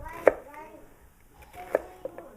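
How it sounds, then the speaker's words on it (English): A knife coarsely chopping onions and peppers on a cutting board, with a few sharp, spaced chops close by and light handling sounds between them. "I'm just going to go ahead and do a coarse chop on everything"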